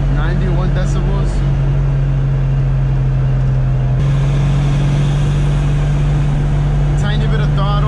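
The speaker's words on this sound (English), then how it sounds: "Driving with no bolt on the strut. Speedo says 70, 91 decibels." Steady loud cabin drone inside a car cruising at 70 mph with a bolt missing from the strut, a constant low hum and road roar without let-up.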